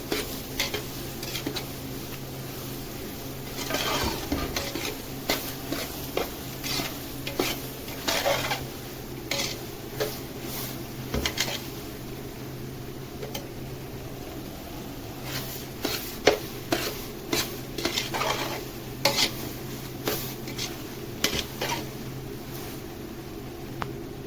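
Semolina (rava) roasts in a pan with ghee for Satyanarayan prasad, a soft continuous sizzle broken by frequent scraping and clinking strokes of a spoon against the metal pan, no talking.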